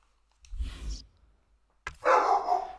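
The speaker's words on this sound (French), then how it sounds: "Désolé, c'est mon chien." A pet dog named Griffin gives two loud, close barks, the second longer and more sustained, with a short pause between them.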